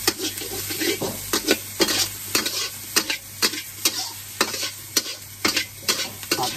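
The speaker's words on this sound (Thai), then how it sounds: "ผัดให้เข้ากันนะครับ" Pork stir-fried with chili and salt in a pan: a constant sizzle punctuated by regular, sharp scrapes and clanks of a spatula tossing the meat, close and loud, without speech.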